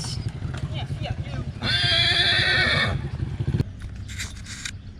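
A loud, close horse whinny rising over background chatter at a temple in Bagan, with people talking before and after and a few shuffling, clopping sounds.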